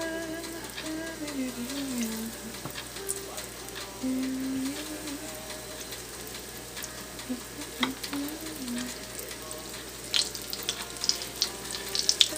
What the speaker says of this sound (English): And they'll fry about 2 to 3 minutes on each side.